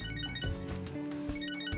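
A mobile phone rings in the video game Catherine, a close electronic tune with repeating tonal notes over soft game background, brief and steady.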